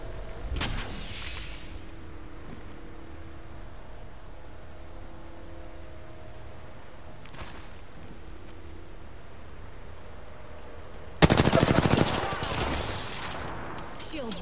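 Gunfire in a video game: a couple of sharp bursts early on, a dense crackling volley near the end, and a quieter humming background in between.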